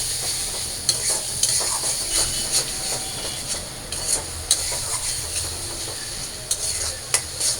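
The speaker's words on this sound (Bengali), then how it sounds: "তো এই মশলাগুলো এখন আমি দিয়ে দিই তো মশলাগুলো ভালো করে আমি একটু কষাই নিই" Spices being sautéed in oil in a pan for a meat curry, with a continuous close sizzle broken by sharp, irregular scraping clicks of a spatula stirring; no voices.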